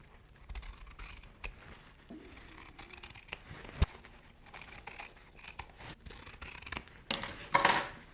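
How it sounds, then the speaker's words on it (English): Scissors trimming the fabric seam allowance on a sport duffel bag, giving quiet, intermittent snips and rustles close up with no talking, and a brighter burst of cutting near the end. "Now go ahead and trim the seam allowance down to an 1/8 inch."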